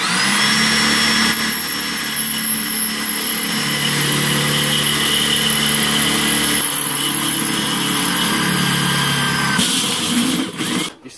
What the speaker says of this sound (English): I got a little higher speed drill this time.